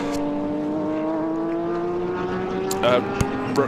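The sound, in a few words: Porsche GT race car racing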